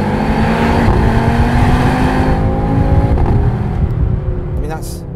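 A performance car engine set to its loudest performance mode, either a 2022 Audi RS3 or a Mercedes-AMG A45 S, drones continuously and close under the cabin hum, easing off slightly toward the end.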